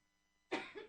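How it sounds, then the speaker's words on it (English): A single harsh cough from a person with a lingering cough, close and fairly loud, bursting out of near silence with a short second push at the end. "I've still got this cough"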